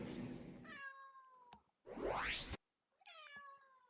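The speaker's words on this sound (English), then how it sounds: "Aw, Hungy Kitty." A cat meowing quietly, two drawn-out plaintive meows separated by a short rising whoosh.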